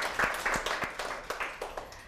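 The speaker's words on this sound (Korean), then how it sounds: "오늘 좋은 강의 해주신 대표님께 큰 박수 부탁드립니다" A small lecture audience claps after a talk, a thin, uneven patter of distinct hand claps with moderate loudness and no voices over it.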